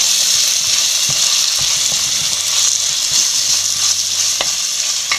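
Tomato, shallots, chilli, ginger and garlic fry with turmeric for a sardine curry, giving a loud close sizzle with scraping stirs and occasional sharp clinks of a spoon against the pan.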